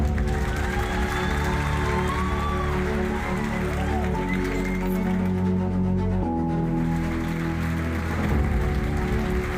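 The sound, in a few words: audience applause after speakers welcomed on stage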